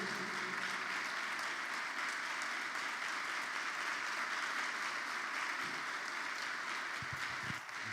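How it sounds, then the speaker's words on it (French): A church congregation breaks into sustained acclamation applause, an even, dense roar of many hands clapping for several seconds, steady and moderately distant, with a few low thumps near the end. "Est-ce qu'on peut recevoir la parole par des acclamations?"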